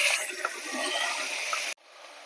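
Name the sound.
rinsing the mixing jar with water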